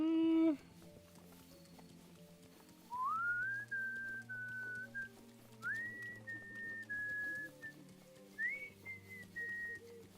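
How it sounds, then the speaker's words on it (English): A person whistles three rising, sustained phrases separated by short pauses, clear and moderately close, over a quiet background with faint low tones. "How I'm whistling now is not indicative of the final product"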